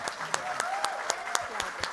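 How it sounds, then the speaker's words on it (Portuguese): An audience at a climate panel event applauds, a dense wash of clapping with a few sharper distinct claps standing out, steady and moderately loud. "uma salva de palmas para essas mulheres"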